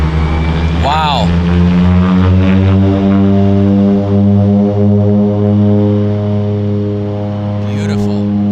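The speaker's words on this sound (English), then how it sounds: "here goes the Twin Otter" A de Havilland Twin Otter propeller plane taking off from Vancouver Harbour, a loud, steady droning engine roar with strong buzzing harmonics that bends slightly in pitch as it passes, while a voice briefly exclaims over it.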